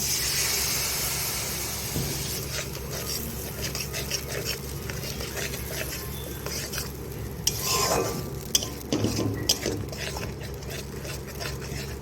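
A poppy-seed spice paste with turmeric and chili loosened in water is stirred and fried in a pan for a fish kalia, giving a constant close sizzle and hiss under repeated scraping and clinking strokes, louder around the middle, with no voice.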